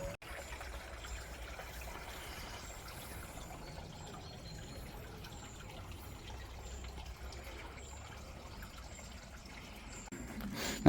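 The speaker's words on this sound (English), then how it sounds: "You can hear water running underneath." Water runs underneath an old brick pump well, a steady low trickling stream heard from above, constant and moderately faint with no voices.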